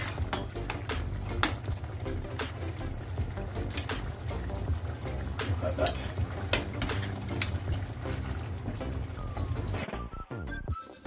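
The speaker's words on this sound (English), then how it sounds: "To simmer for another 2 minutes and then it should be good to go." Salmon simmering in a Jack Daniel's and mango sauce with fresh vegetables in a pan: a continuous bubbling sizzle with frequent clinks and scrapes of utensils against cookware, steady and close.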